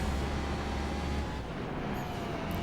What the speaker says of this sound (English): And this car sounds pretty quiet.